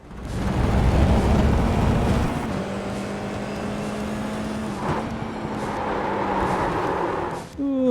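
A high-downforce race car's engine revs hard on throttle, a loud continuous roar with rising harmonic pitch and a brief lift near the end before picking up again; close onboard sound.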